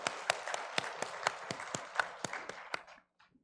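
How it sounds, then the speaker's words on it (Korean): A church congregation claps in unison during Sunday worship, with about a dozen sharp synchronized claps in an even beat over a soft clatter of scattered hands. The clapping stops abruptly, leaving a few faint stray sounds. "영광의 박수 올려드리겠습니다."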